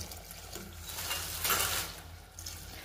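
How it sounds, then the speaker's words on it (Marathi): Water poured into a pot of dal khichdi after the spices are sautéed, a steady running gush that swells in the middle and then eases off, close by with no talking. "मसाल्यात परतल्यानंतर मी ह्याच्यात पाणी ऍड करते पुरेसं असं"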